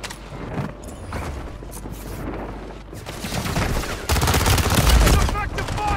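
Dense, sustained gunfire from many weapons in a Call of Duty battle, continuous rattling volleys that grow louder and heavier toward the end, with faint radio-style voices in the mix.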